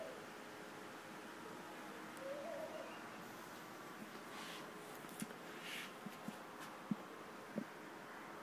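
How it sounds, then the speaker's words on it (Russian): A bird, probably a dove, coos faintly and far off at dawn from a balcony, soft repeated notes over steady background hiss with a few light clicks. "Птичка где-то тут воркует."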